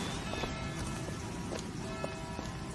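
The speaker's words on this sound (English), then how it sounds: "What are you doing to this poor horse?" Horse hooves clip-clopping in BioShock Infinite, a faint, steady series of hoof knocks at walking pace heard at a distance under a constant ambient hum.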